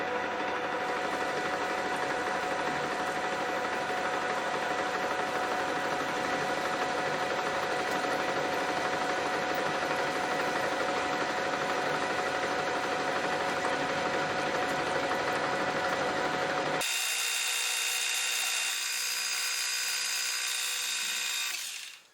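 A metal lathe turning a tailstock die holder part down to 5/8 diameter, a continuous whining machine hum with steady tonal bands, shifting to a thinner high-pitched tone near the end as the cut changes.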